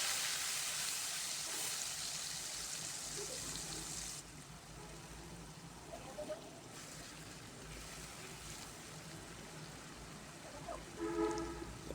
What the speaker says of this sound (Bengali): কিছুটা সময় তেলের মধ্যে এই পেস্টটাকে ভেজে